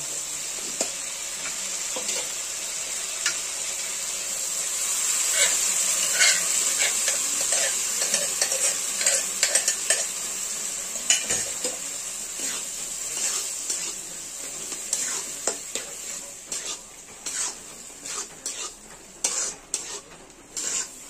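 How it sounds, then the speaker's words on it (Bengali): Boiled chana dal is added to frying spices in a pan and stirred. A constant bright sizzle runs beneath it, with the stirring growing into a brisk series of spatula scrapes and knocks, close by. "এবার আমরা সেদ্ধ করা ছোলার ডালটা আছে সেগুলোর মধ্যে দিয়ে দেবো"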